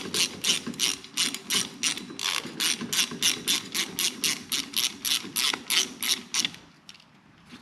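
A Craftsman hand ratchet clicks rapidly and steadily, close up, its pawl ticking in a fast even rhythm for several seconds before slowing and stopping.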